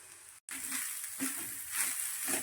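Curry leaves, grated coconut and turmeric dry roasting in a pan for Mangalorean chicken saaru, giving a soft, steady sizzle with faint stirring scrapes, fairly quiet and alone after a brief cut near the start.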